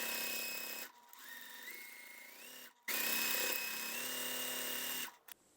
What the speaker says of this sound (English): And then I'm gonna sew this part.